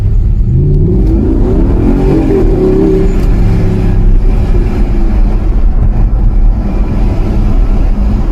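An Audi R8 4.2-litre V8 engine roars loudly and continuously, a deep throaty drone that swells as it pulls hard, heard from up close with no voices.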